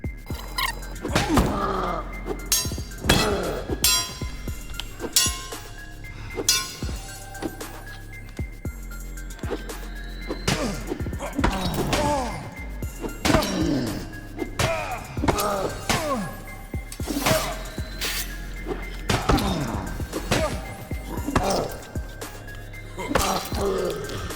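Axe strikes in Mortal Online 2 during a dungeon fight against a monster, a series of heavy, thudding chops repeating irregularly at close range and loud, set against a constant low game hum.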